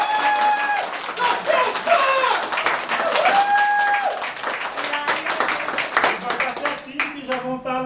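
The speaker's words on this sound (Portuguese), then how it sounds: "Aplausos para Lígia e Éder." Audience applause for Lígia and Éder at a Brazilian sarau, moderately loud clapping running through, with a voice speaking and announcing over it and musical tones mixed in near the end.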